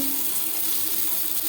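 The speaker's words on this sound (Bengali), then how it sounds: "মাছ ভাজা হয়ে গেছে" Pieces of katla fish belly fry in hot oil in a pan, a steady close sizzle and crackle heard alone for a short moment.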